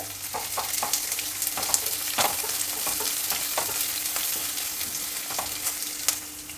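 Curry leaves and medium-cut onions sizzle and crackle steadily in hot oil for a chilli sabzi, with scattered sharp pops and light stirring scrapes throughout.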